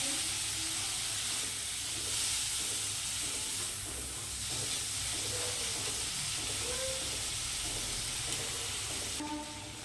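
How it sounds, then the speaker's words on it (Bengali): Steady, close sizzling and hissing of prawns lightly frying in a hot pan, continuous throughout with faint crackles and no speech. "চিংড়ি মাছটাকে হালকা করে ভেজে নেবো"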